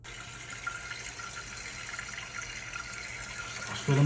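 Water refilling a toilet tank through a newly installed fill valve, a steady soft hiss of flowing water throughout, with a louder rush near the end.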